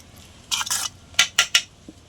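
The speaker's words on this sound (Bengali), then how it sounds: "তো আমি টিফিন বাটির মধ্যে ঢেলে নিচ্ছি।" A white paste of ridge gourd peel, sesame and white mustard goes into a metal tiffin bowl with a few close, bright metallic clinks and scrapes, two short bursts then three quick knocks, with quiet between.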